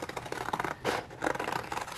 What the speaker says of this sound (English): let's just kind of cut around my sewing